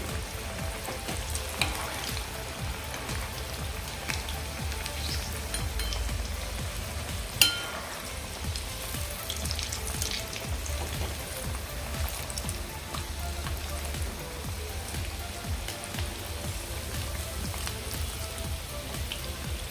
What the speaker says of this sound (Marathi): आपण याला झाडा लावणार आहोत आणि असं हे झाडाने यावर तेल असं उडवायचं आहे